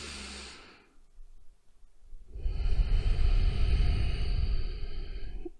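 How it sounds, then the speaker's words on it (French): A deep, slow group breath drawn in together during a guided relaxation session, a soft airy inhale followed by a broad, full exhale that swells and holds for several seconds, with no talking. "on va prendre une profonde respiration ensemble"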